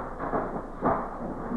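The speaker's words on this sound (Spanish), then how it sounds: "Parece que son un trueno que anuncian que va a caer agua." Thunder sound effect in a comedy sketch: a faint, muffled rolling rumble with two swells, heard alone without speech.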